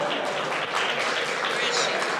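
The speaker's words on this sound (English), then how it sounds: "So round of applause, please, for Prerna ji" Steady applause from a crowd at a mental health awareness fundraiser, dense clapping that carries evenly throughout without any pause.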